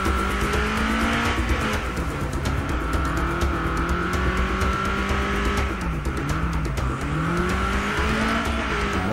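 Fast car in the video game State of Decay 2, engine droning loudly and steadily with pitch rising and falling as it speeds along, tires squealing in places, no talk over it.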